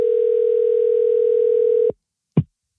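A steady telephone dial tone hums loud and unbroken for nearly two seconds, then cuts off, followed by a short click or thump as the line picks up for a call-in show.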